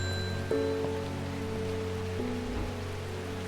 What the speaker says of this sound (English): Does it ever stop raining in Undermire?